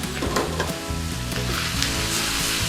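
Beef chow mein noodles sizzling in a hot pan as they are stir-fried, a steady hiss with scraping under a continuous tonal background and no talking.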